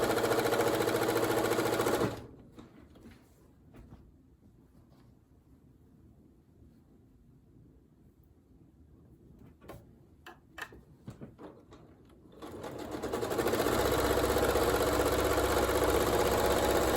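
A sewing machine stitching quilt pieces together, with a loud steady whir at the start, a long quiet stretch broken by a few small clicks, then the steady motor hum returning at the end.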